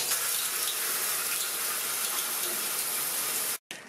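Shower water runs at a campsite in a steady, close, rushing hiss that cuts off abruptly near the end.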